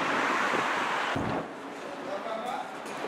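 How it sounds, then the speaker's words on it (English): A chill wind blows outdoors on a sunny day, a steady broadband rush buffeting the microphone, loud at first and then easing slightly, with a person talking over part of it. "it's sunny, but there's a chill wind"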